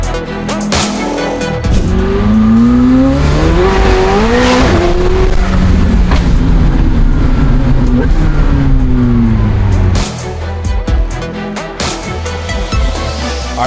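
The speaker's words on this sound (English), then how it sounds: "This is probably one of the loudest cars." A loud McLaren sports car engine roars nearby, revving and accelerating with rising and falling pitch sweeps for about ten seconds, then settles to a lower rumble.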